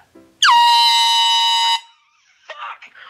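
A loud, sustained air horn blast lasting over a second, cutting off abruptly, followed by a brief burst of indistinct talking.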